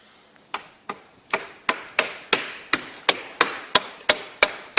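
Wooden rail for a glazing frame being tapped home with a small block, a series of about a dozen sharp, hollow knocks at a steady pace, growing slightly louder, close and alone.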